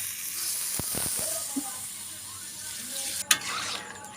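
Water tipped into chili and cumin powder frying in a pan for a fish curry, a steady hiss and sizzle with a few scrapes early on and a sharp burst near the end.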